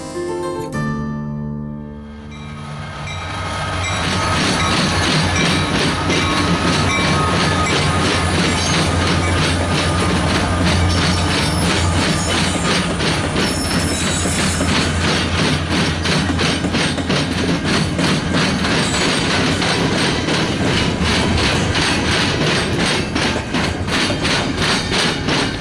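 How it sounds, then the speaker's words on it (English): A CN local freight train rolls over the diamond crossing of the old GT line on the former EJ&E main near Griffith, a loud, continuous rumble and clatter of wheels that swells in after a quiet start and holds throughout. "Traveling on the former EJ&E Main, a CN local out of Gary's Kirk Yard rolls over the diamonds of the old GT."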